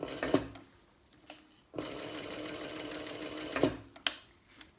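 A sewing machine stitching a small structured wallet, running in two steady buzzing bursts with a pause and clicks between as the work is turned around a corner, close and clear with no talking.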